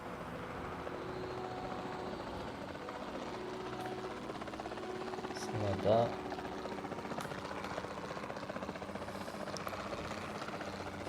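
A steady low helicopter drone hums throughout a dinosaur-themed game, continuous and fairly even with a brief louder swell midway while a person speaks briefly.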